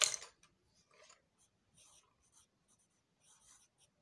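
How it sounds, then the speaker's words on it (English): Pen or pencil writing on draft paper while a math equation is worked out, with short scratchy strokes in irregular bursts, close and fairly quiet, no talking. "So I'm gonna write on a draft"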